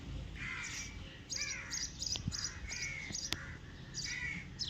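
Crows cawing near a house, where they nest in a nearby tree, give repeated harsh calls at moderate distance over outdoor background noise, with a few sharp knocks in between.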